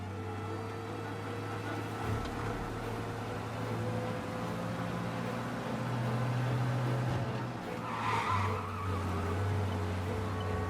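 Car in the Mafia: Definitive Edition video game speeding away from police, a steady engine drone with rising and shifting pitch and a brief tire-skid burst near the end, continuous and close.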